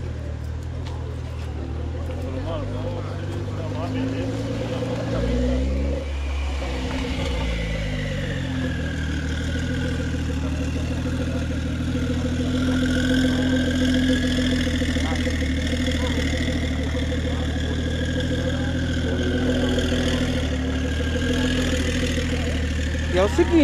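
A green Porsche's engine idles with a steady mid-pitched drone, then rises and falls as it is revved, close by, while people talk around it.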